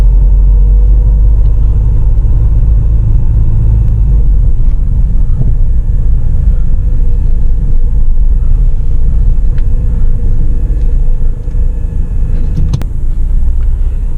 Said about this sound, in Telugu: ఇంజన్ నాయిస్ అనేది మనకి ఇంటీరియర్లో వినిపిస్తుంది